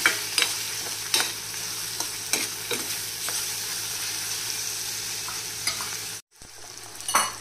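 A spiced mixture of salt, chilli and turmeric cooks on a low flame with a constant gentle sizzle, and a spoon scrapes and taps the pan at irregular moments, heard close with a brief dropout near the end and no talking.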